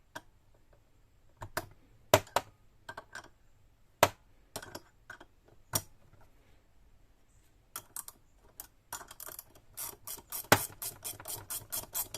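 A wrench clicks and ratchets in short, sharp bursts while cylinder head stud nuts are loosened, with irregular spaced clicks early and a quicker run of ratcheting near the end, close and fairly quiet.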